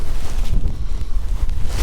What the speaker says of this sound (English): well, I hope this isn't too windy. It is windy.